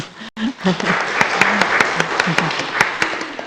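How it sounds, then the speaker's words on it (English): Applause at a commission meeting, a burst of clapping from the room that rises after a brief pause and continues steadily, with a few voices murmuring underneath. "So she deserves a round of applause."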